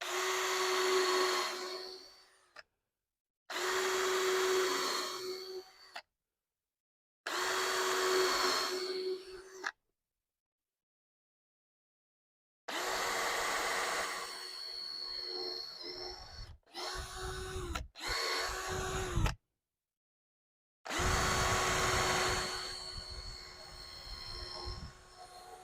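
A power drill whirs in five or six loud bursts separated by short silences while holes are bored for a chest freezer's mobile base, each burst a high, steady whine.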